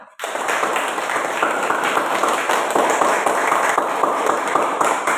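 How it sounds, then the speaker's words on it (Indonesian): Classroom applause for students after a group exercise, a dense steady patter of many hands clapping that starts abruptly and holds loud and even throughout. "Tepuk tangan untuk semua."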